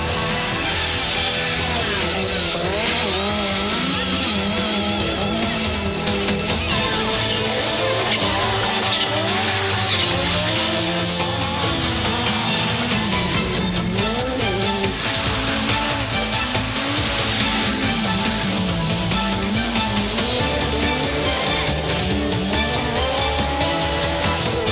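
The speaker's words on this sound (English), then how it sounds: "Left foot braking to turn the car, as Walter Rural demonstrates here." All-wheel drive rally car cornering hard under left-foot braking, loud and close throughout with a continuous engine roar that rises and falls, tyres scrabbling and squealing on the surface.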